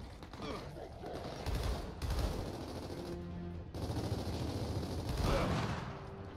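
Rapid bursts of Gears of War 4 gunfire rattle over a dense, noisy mix of mechanical clatter and creaks, with a voice briefly underneath.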